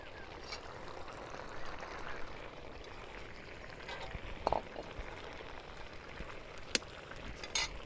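Red masoor lentils simmer in water in a village-style kitchen, giving off a soft, continuous bubbling burble with a few brief pops and clicks, low and close.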